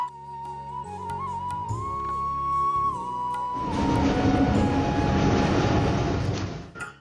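Passenger train crossing the Bangabandhu Bridge over a river, heard from inside the carriage: a tonal hum gives way to a loud, broad rumble of wheels and rushing air that builds and holds, with no talk.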